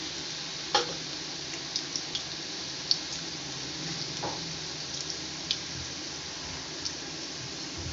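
Finely chopped garlic fries in hot oil for chilli parotta, making a constant close sizzle punctuated by occasional stirring clinks and scrapes.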